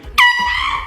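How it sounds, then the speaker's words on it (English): A single loud, sharp air horn blast goes off close by, a bright harmonic honk that starts abruptly and holds steady for most of a second. "Air horn test."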